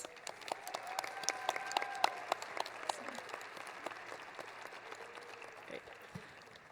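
An audience at a university honor society induction ceremony applauds new members, moderately faint clapping with scattered sharper claps, while a voice and some musical tones sit under it.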